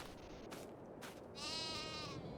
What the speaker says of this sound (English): Sheep are good.